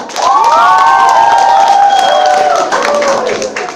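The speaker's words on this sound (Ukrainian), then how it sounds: "Прошу вітати бурхливими оплесками." A children's camp pageant audience greets the jury with loud applause, cheering and shouted young voices, a full, boisterous roar that dips briefly near the end.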